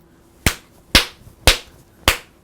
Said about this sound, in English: This is, sound of one hand clapping